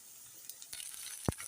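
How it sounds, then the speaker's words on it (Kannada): Ginger-garlic paste fries with onions in a pan for paneer bhurji, a faint sizzle with light stirring scrapes and one sharp clank near the end. "ಇದಕ್ಕೆ ಈಗ 1 ಟೀ ಸ್ಪೂನ್ ಶುಂಠಿ ಪೇಸ್ಟ್, ಶುಂಠಿ ಬೆಳ್ಳುಳ್ಳಿ ಪೇಸ್ಟನ್ನು ಹಾಕಿ ಫ್ರೈ ಮಾಡೋಣ."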